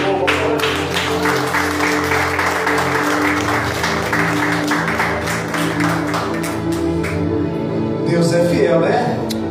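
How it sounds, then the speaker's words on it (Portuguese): A church congregation applauds together, with loud, steady clapping over sustained music that continues throughout. "As palmas de novo."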